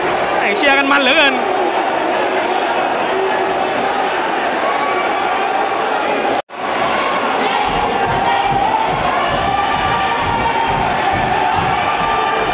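Dense crowd roar from a Muay Thai championship bout in Om Noi keeps up without a break, with excited shouts rising over a commentator who talks throughout.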